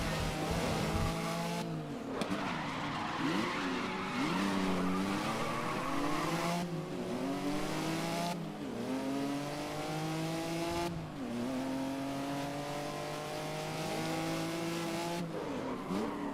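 Race car engine in the Grid video game revving hard through repeated gear changes, with rising and falling whines, brief cut-offs between shifts and occasional tire squeal, loud and continuous.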